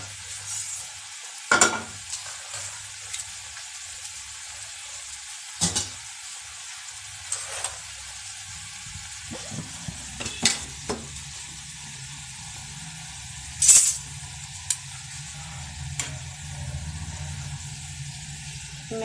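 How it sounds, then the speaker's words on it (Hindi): Potatoes frying for chilli potato on a gas stove, a low steady sizzle with occasional stirring clatters and a few sharp metallic knocks, no voices. "तो दूसरी गैस पे हम इन्हें फ्राई भी कर लेते हैं इसकी चिली पटेटो के लिए"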